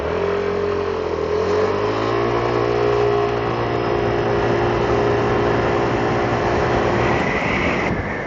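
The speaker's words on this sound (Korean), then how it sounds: "가속 성능은 대략 이런 느낌이 나옵니다. 초반 가속이 상당히 뛰어납니다." An Aprilia SportCity 300 scooter accelerates hard from close by, its 300cc engine drone rising steadily in pitch and staying loud for several seconds, with wind noise building toward the end.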